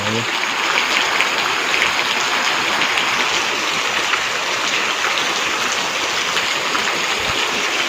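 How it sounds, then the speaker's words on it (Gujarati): Heavy monsoon rain pours down steadily in a village, a dense continuous hiss of drops with no pauses. "સાચું કન્ટિન્યુ ચાલુ જ છે વરસાદ"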